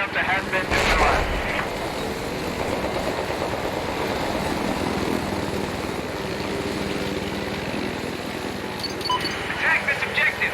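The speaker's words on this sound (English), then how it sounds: "I spotted an enemy helicopter." An enemy helicopter in the online shooter PUBG, a steady whirring rotor and engine drone that holds on throughout, with game noise and speech heard around it.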